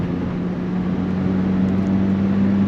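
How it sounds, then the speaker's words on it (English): Inside the cabin of a 2005 Lotus Elise, the engine gives a steady loud droning buzz of induction noise, continuous and even throughout. "All you hear inside here is really loud induction sounds and just buzzing from the engine"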